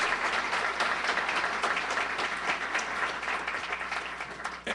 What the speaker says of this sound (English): please let's give them a round of applause for opening up this venue